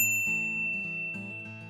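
Bright notification bell sound effect: a clear ringing ding repeated in three quick chimes, each with a long tonal sustain, crisp and isolated.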